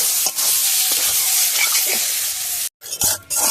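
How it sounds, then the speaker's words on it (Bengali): Food sizzles loudly in a frying pan over reduced heat while a utensil stirs it constantly, a dense steady hiss broken by a brief pause and some scraping near the end, no talking. "এইটুক যাওয়ার পরে আঁচটা কমিয়ে দিয়ে দেবো আর অনবরত নাড়তে থাকবো।"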